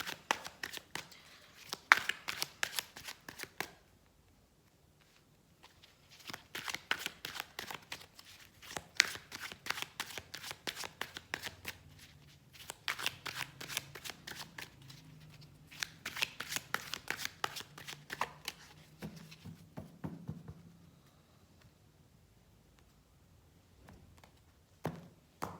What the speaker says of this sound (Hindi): मिडिल मंथ्स जो हैं मई, जून, जुलाई, अगस्त, उसके लिए हम कार्ड निकालेंगे